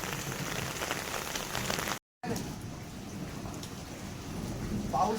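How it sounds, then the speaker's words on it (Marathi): Heavy rain pouring steadily outdoors on a wet, waterlogged area, a dense continuous hiss close by, with a brief dropout to silence partway through. "आज फुल पाऊस आहे."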